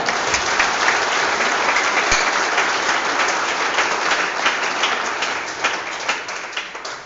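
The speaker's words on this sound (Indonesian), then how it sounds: "Kita beri tepuk tangan dengan semangat" A Salvation Army church congregation claps vigorously together during a Sunday worship service, a sustained, even wash of applause filling the room before it gradually loosens and tapers near the end.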